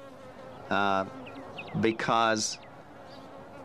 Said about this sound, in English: maybe there's something to these bees